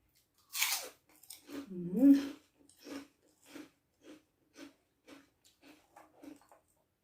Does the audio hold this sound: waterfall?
no